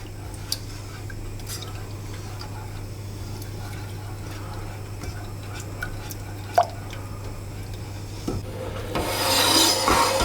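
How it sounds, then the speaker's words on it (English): Spoon stirring orange juice and zest in a saucepan, a soft continuous scraping and rubbing close up over a low steady hum, with a brief clink and a louder hiss near the end. "We'll just stir that in."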